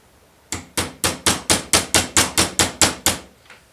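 A hammer strikes a wooden dowel to drive the gear off a Hornby Ringfield model train motor held in a vise, about twelve sharp, evenly spaced blows in quick succession, close and loud.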